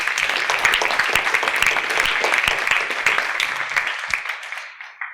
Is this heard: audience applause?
yes